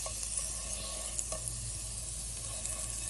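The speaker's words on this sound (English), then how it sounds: "Time for our bread. We're gonna toast it." Bread toasting in butter in a frying pan for a breakfast, a steady close sizzle and crackle running throughout with a few light scrapes, no voices.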